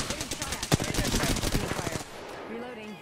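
A Wingman pistol fires a fast string of sharp shots in a video game, evenly spaced and close for about two seconds before it stops.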